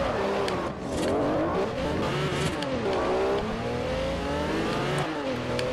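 A Koenigsegg CCR supercar in the racing game Forza Horizon revs hard, its engine climbing and dropping in pitch through repeated gear changes, loud and close without pause.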